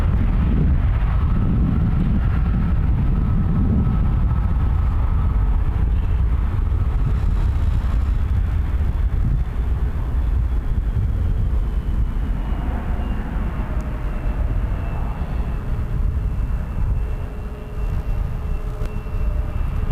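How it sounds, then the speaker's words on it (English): Embraer 175 jet of Jazz taking off at Toronto Pearson airport at night, a broad steady roar that swells and lingers throughout, heard from a distance with some wind buffeting. "Jazz 556 to JFK, Embraer 175."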